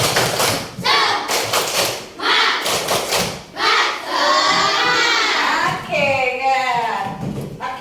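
Fifth-grade elementary schoolchildren in a classroom do a rhythmic spirit clap, with bursts of clapping and thumping mixed with loud children's chanting and shouting throughout.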